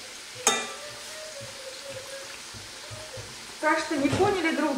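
Vergun pastries fry in a pan with a steady, moderate sizzle, broken by a sharp clink of a fork and the hiss and scrape of a pastry being flipped toward the end.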